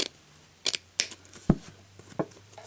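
Scissors cut through card stock for a handmade Christmas gift card holder ornament, a handful of separate crisp snips and small rustles spaced out in a quiet room.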